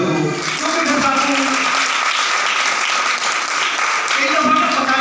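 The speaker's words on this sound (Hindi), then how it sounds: "जरा तो जोर नाल ताली बजाओ" Sustained applause from a church congregation at a Pentecostal-style prayer service, a dense steady wash of many hands clapping throughout with faint voices beneath it.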